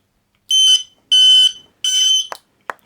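Car hazard warning lights just installed, sounding as three loud, steady high-pitched electronic beeps in a row, each about half a second long, followed by two short clicks.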